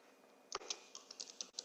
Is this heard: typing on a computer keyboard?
yes